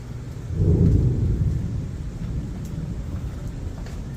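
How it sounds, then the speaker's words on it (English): Thunder rolls over a hotel resort in Orlando during a storm: a deep rumble swells about half a second in, peaks, then keeps grumbling steadily for several seconds under faint rain-like hiss, with no voices. "there is thunder and lightning right now"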